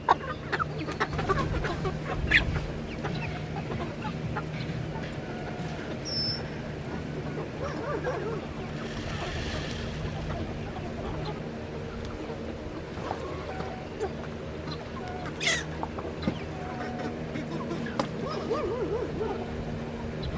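Meat chickens cluck and murmur steadily at a moderate distance, with scattered squawks over a low background hum.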